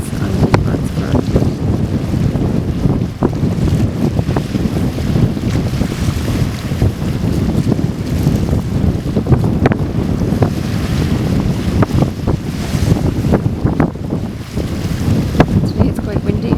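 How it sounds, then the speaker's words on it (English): Strong wind buffets the microphone on an open beach at Fenit, County Kerry, a continuous rumbling gusty roar with sea and surf beneath and brief bumps, sustained throughout. "Today it's quite windy."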